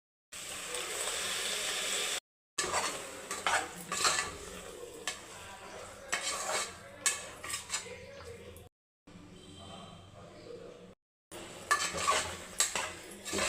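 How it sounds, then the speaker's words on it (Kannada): Ground spice paste of coriander powder, chilli powder and garam masala being fried and stirred for capsicum rice, with a spoon scraping and clinking against the pot in irregular bursts, broken by short silent gaps. "ಚೆನ್ನಾಗಿ ಫ್ರೈ ಮಾಡ್ಕೊಬೇಕು ಮಿಕ್ಸಿಗೆ ಹಾಕಿರೋದೆಲ್ಲನೂ"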